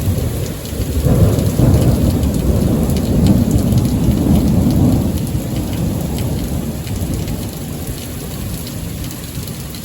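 A thunderstorm pours heavy rain, with a deep rumble of thunder swelling early and fading under the loud, constant hiss of rain on surfaces.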